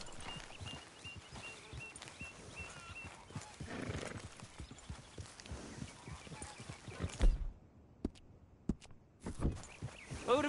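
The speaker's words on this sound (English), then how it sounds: "Grab your horse and let's go." A horse in the Red Dead Redemption 2 video game clip-clops along at a steady walk and lets out a whinny, hooves thudding close and clear over a soft outdoor ambience, with a few sharper hoof strikes toward the end.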